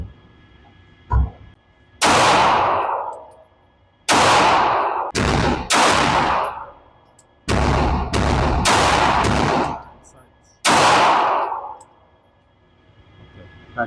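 Gunshots crack at a range: an irregular series of loud, sharp reports, some single and some in quick pairs, each followed by a brief decaying echo, with quiet gaps between.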